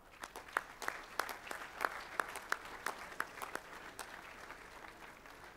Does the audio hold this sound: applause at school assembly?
yes